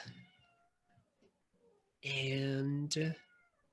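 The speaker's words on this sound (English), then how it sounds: "Sorry if you hear my cat yelling at the door." A house cat meows and yowls loudly at a closed door, two long strident cries close by after quieter background sounds and faint talk.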